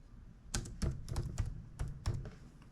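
Close, clicky keystrokes on a computer keyboard come in quick bursts of a few taps with short pauses between them, entering a search into a park permit website.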